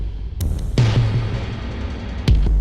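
A layered Primate drum kit pattern with punchy low hits, each trailed by tape-delay echoing repeats and a washy plate reverb tail that keeps ringing between strikes.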